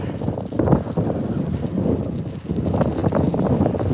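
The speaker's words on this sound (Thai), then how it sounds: "ลมแรงมาก" Strong wind buffets the microphone while riding a bicycle outdoors, a continuous loud rumbling roar that swells and dips, with no talking.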